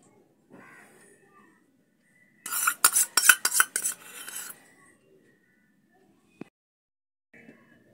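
Yogurt whisked with salt in a bowl for decorating doi chingri, a Bengali prawn curry: a short burst of rapid clinking, scraping strokes of a utensil against the bowl, with faint isolated taps before and after.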